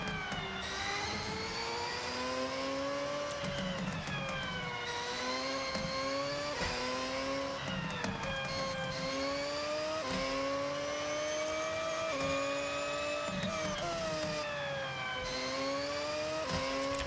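A Mazda 787 race car in the video game Forza Horizon, its engine revving continuously and loud, the pitch climbing and dropping repeatedly through gear changes over a steady roar, with no talk.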